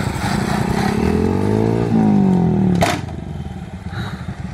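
A Honda Titan 160 motorcycle engine revs hard and close, its loud droning pitch climbing over about two seconds before the throttle snaps shut. A quieter idle follows with some clatter.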